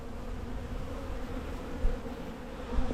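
Honeybees buzz in a dense, steady drone during a bee removal cutout, close and continuous with a couple of brief knocks.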